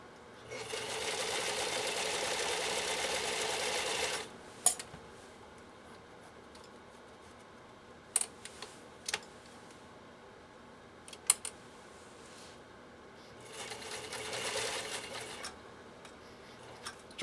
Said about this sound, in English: let's see how this stitch pattern can be laid down on these 2 layers of this nylon webbing